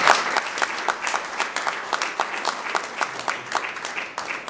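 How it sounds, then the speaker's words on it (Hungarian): A crowd claps steadily for a teacher stepping onto the stage at a Hungarian children's academy event, with dense, continuous applause at close range and no voices over it. "És egy jó nagy tapsal köszöntsük őt."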